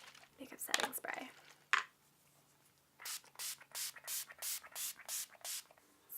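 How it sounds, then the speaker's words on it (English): Urban Decay All Nighter makeup setting spray is pumped onto a face in a rapid run of about eight short, crisp misting bursts, close and fairly quiet, after a brief stretch of soft handling noises. "So I'm using the Urban Decay All Nighter makeup setting spray."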